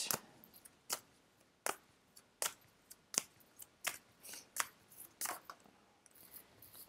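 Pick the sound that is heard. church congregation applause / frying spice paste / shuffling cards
shuffling cards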